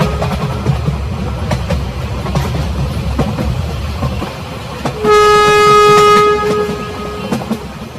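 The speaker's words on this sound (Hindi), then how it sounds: "ये लोग ये सोच ही रहे थे कि तभी ट्रेन शुरू हो जाती है।" Cartoon train starting off, with a steady rumble and clickety-clack of the wheels on the rails, then a long, loud horn blast midway through before the rolling noise carries on.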